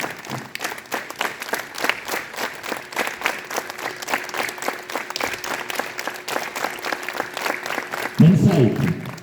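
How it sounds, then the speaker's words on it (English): Students at a school assembly clap together in a rapid, rhythmic series of sharp claps, loud and close, with a voice speaking near the end. "Clap together."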